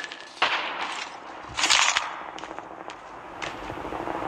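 Gunfire in the Call of Duty Mobile video game rings out in a loud burst followed by scattered single shots and sharp cracks, some near and some farther off, with no talk over it.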